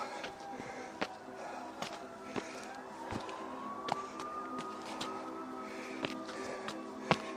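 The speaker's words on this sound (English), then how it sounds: "I hear a siren." A siren wails faintly in the distance during a trail run, its rising and falling tone drifting under scattered footsteps and light rustling.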